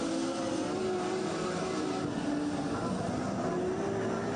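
Speedway race cars lapping a Brisbane track during a feature race, a steady engine drone with a sustained tonal whine, moderately distant and unbroken.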